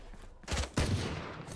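Gunfire in a video game, likely a tactical shooter, sounds as two quick, punchy bursts close together, then a decaying tail over faint background noise.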